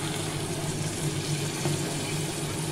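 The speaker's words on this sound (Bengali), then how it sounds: "অল্প পরিমাণ জল দিলাম" A small amount of water poured into a pressure cooker while cooking a light fish curry with katla and taro, a steady splashing pour running close and continuous throughout.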